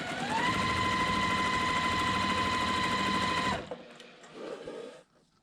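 A sewing machine runs steadily at close range while blocks are joined for a February 2023 block-of-the-month quilt, humming loudly for over three seconds before stopping abruptly, followed by faint handling rustles.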